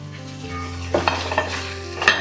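Fried prawns are stirred into pickle masala in a pan, with a continuous low sizzle, a low steady hum beneath, and several distinct scraping and clinking stirs of a utensil against the pan.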